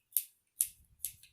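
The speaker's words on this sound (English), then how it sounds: "careful with the scissors, okay?" Children's scissors cut through cooked spaghetti, giving three soft, crisp snips evenly spaced about half a second apart. Each snip is faint and close, and a low background murmur sits underneath.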